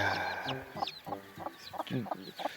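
A mother hen clucks steadily in short, low, repeated bursts nearby on a farm, with faint high peeps from her roughly thirteen chicks in the background.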